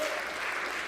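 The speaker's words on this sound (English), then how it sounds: "Big round of applause." A live-show audience claps steadily to welcome performers to the stage in a brief, even wash of applause with no voices on top.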